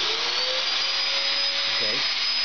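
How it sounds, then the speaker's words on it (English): A vacuum pump runs steadily for a wall-climbing vacuum paddle rig, giving a loud, continuous whine with a sustained high tone and a brief wavering shift near the end. "I'm going to turn on the vacuum."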